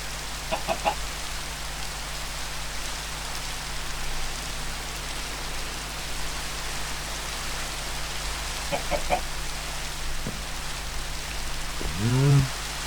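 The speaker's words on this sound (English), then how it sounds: "It is raining." Soft, steady rain patters throughout a modded Minecraft game, with a few faint clucking bird calls now and then and a louder squawk near the end.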